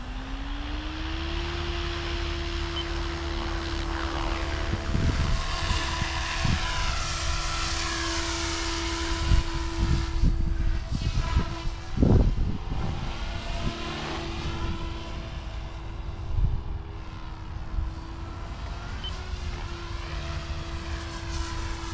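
OMPHobby M4 RC helicopter spinning up at a low head speed and flying, a steady high-pitched motor whine with rotor buzz that shifts in pitch, with a few louder gusts and bumps partway through.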